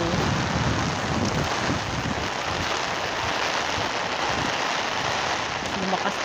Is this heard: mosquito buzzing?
no